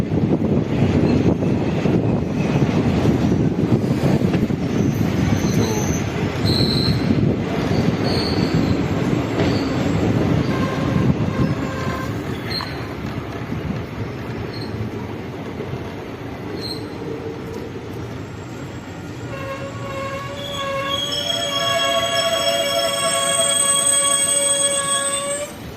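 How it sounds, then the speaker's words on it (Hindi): The 17603 Kacheguda Yelhanka Prashanthi Nilayam Express rolls into its halt at Doddaballapura, Karnataka: loud rumbling rail noise and wheel squeal fade as the train slows, then steady high tones ring out near the end. "यहाँ पे इस ट्रेन का 2 मिनट का हॉल्ट है"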